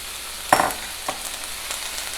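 Sliced portobello mushroom caps hit a hot pan with vegetables, a steady close sizzle punctuated by a sharp burst of crackling as they land and a few soft stirring clatters after.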